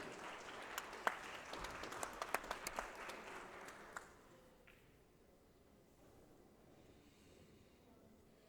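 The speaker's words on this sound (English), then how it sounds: "How about a nice warm round of applause for Debbie Taggart." Audience applause at a women's pool tournament, a spread of clapping with a few sharper claps for about four seconds before dying away to quiet room tone, heard at moderate distance.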